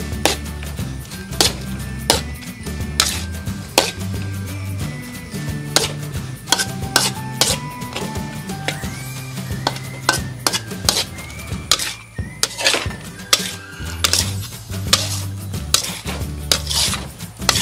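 Pad thai rice noodles with egg stirred and tossed in a pan, a busy run of close, clattering utensil scrapes and clinks against the metal, with a few brief quiet pauses.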